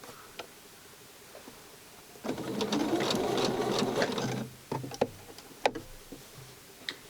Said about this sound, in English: while you are sewing, and you have to sew in the right U form